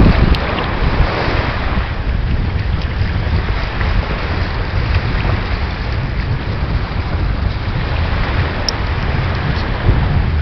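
Ocean waves wash steadily around someone standing in shallow water off Jamaica, a loud continuous surf roar with heavy wind buffeting the microphone and no voices.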